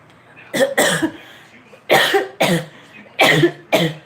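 Several sharp, close coughs in short bursts, two pairs and a final single, with quiet pauses between them.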